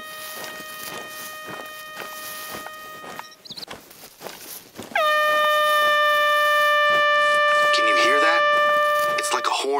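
An air horn app sounds in The Hunter: Call of the Wild hunting game in the Silver Ridge Peaks area. A thinner tone comes first, then a loud sustained horn blast runs through the second half.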